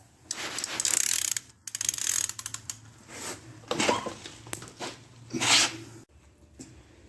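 Torque wrench ratcheting while tightening fittings on a Woodland Mills WG24 stump grinder during setup, heard as close, bursty clicking runs with short pauses between strokes and no talking.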